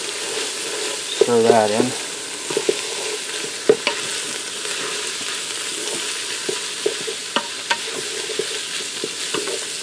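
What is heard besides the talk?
taco meat sautéing in Ninja Foodi pressure cooker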